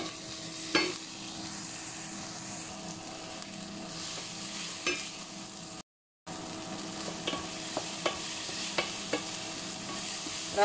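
Vegetables sautéing in a pan for spinach and pea soup: a continuous soft sizzle with frequent stirring scrapes and light clicks, briefly cutting out midway before resuming.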